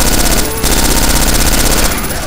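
Dense, loud automatic gunfire from the Left 4 Dead 2 video game during a Confogl tournament match, firing continuously with a brief dip before resuming.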